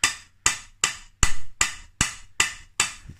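Eight sharp hammer taps seating a crankshaft bearing in a Honda QR50 engine, at an even, unhurried rhythm, each a bright ringing strike that decays quickly; close and loud with no talking.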